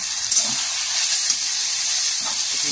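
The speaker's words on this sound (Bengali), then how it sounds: "কষিয়ে নেব, মিশিয়ে নেব" Noodle masala with tomato sauce, soy sauce and green chillies sizzles in a pan, a loud steady hiss with a few faint stirring scrapes.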